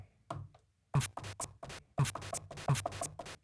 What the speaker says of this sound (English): That could be an open hat.